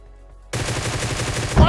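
AWM sniper rifle and other gunfire in a battle royale video game, heard as a sudden burst of rapid shots after a moment of near silence, ending with one louder blast.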